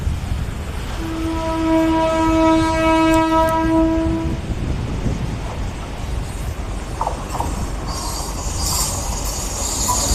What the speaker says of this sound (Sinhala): මේ කෝච්චියක් එනවා